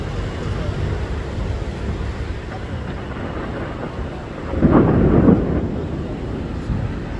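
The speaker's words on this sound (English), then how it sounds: "You heard the big thunder?" A rumble of thunder during a storm in New York City, heard while walking along Central Park West, swells briefly over steady city background noise and then fades.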